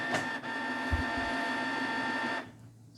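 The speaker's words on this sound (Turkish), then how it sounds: "Gelin şimdi yazıcıyı açalım. Power'a basıyorum." A Canon colour inkjet printer powers on after its ink cartridges are refilled, with a few mechanical clicks and knocks over a steady electronic whine and hum, ending abruptly as the motor stops.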